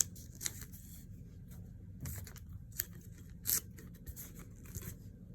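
Quiet strips of tape being torn and pulled off during mirror polishing of the flats of a Shirogorov knife blade, with a few short ripping bursts over a low background hum.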